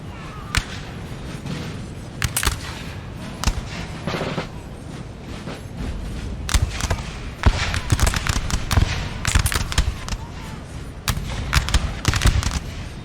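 Rapid musket volleys crack through a Napoleonic battle in Total War, loud sharp reports firing in irregular clusters and ragged bursts over a constant din of combat, with no voices on top.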